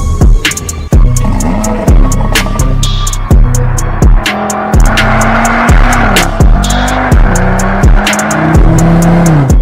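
An Audi RS3 with a 2.5-litre turbocharged five-cylinder engine revs hard and close, climbing in pitch through repeated gear changes with sharp breaks between each pull.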